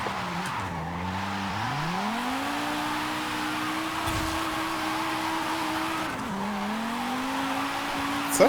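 VW Golf R drifting in Forza Horizon 5, built as an all-wheel-drive drift car: sustained tire squeal and skidding over a steady engine tone, with revs dipping and climbing twice, loud and continuous with no talk.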